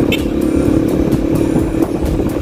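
A motorcycle engine drones steadily while riding through city streets between Makati and Manila, a loud continuous low rumble with wind buffeting and faint traffic around it.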